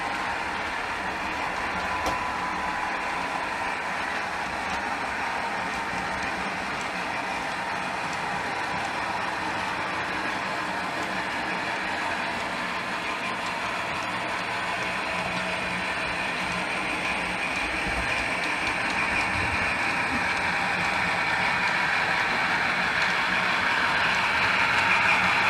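A model railway train rolls steadily through a fiddle yard, its continuous running hum and faint rail clatter holding even and close throughout.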